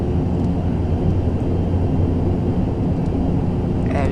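An ATR 72 turboprop airliner taxiing at Bergen in Flight Simulator X gives a loud, steady engine drone and rumble that holds evenly from start to finish with no talking.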